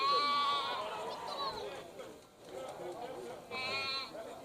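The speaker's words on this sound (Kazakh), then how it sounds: "Мына жерде тағы да бір қойлар бар екен, тамаша." Sheep bleat loudly and repeatedly at a city livestock market in Kyzylorda, with a long call at the start and another near the end, while people talk in the background.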